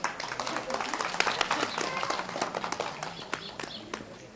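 Applause at a village celebration of Vasil Levski's birthday in Novoselyane, Bulgaria: a scattered, fairly close patter of clapping hands with some murmuring voices underneath, gradually thinning out.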